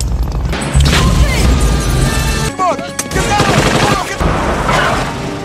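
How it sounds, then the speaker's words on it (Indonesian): Heavy gunfire from agents shooting at people in a film scene, loud bursts and rapid shots over a dense action soundtrack with crashes and impacts throughout. "mereka diserang oleh tim agen yang menembak banyak orang di sekitar"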